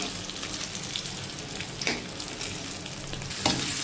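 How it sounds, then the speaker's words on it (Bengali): Fish frying in a pan of oil, crispy-style, giving a steady close sizzle with a couple of brief stirring or scraping bursts, no voices. "মাছ ভাজা করব।"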